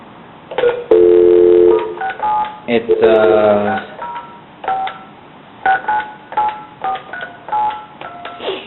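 A run of telephone keypad tones, several short beeps in uneven bursts, some held longer, clear and close with no talking.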